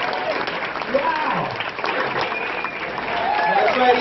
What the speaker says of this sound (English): Clap for Eric, holy shit